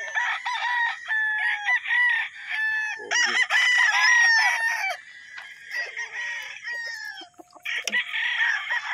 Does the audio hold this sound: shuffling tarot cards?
no